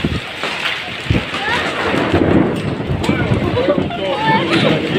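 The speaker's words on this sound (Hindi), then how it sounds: "बारिश नहीं हो रही, ओले ओले आ रही है, देखना।" Hailstones pelt down during a storm, a dense, loud rattle of hard impacts, some striking a metal railing, with thunder-like rumble underneath and people talking over the noise.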